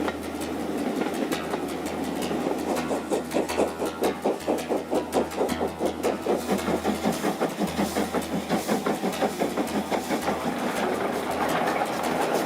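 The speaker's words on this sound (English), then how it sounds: "I'm boarding a steam-powered train for one of the world's most unforgettable rides through the rolling hills" Steam-powered train running through the Scottish Highlands, with a loud, steady rhythmic chugging and rumbling that builds into fast regular beats over a low engine drone, heard alone without voices.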